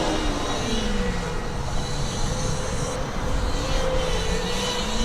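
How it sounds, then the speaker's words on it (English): A Formula Student race car's engine works on the throttle around a skid pad, its loud, continuous drone rising and falling in pitch as the driver modulates the revs, with no talking. "You can see the driver working the throttle through the clear bodywork."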